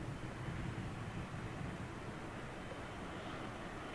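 Aeroflot airliner departing slowly at Heathrow Airport, its broad jet roar steady and fairly distant, a continuous low rumble with hiss that holds level throughout without voices.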